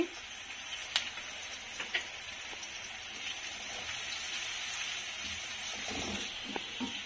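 Steady sizzling of onions and green chilies frying in a pan, with a few scattered clicks and scrapes as they are stirred.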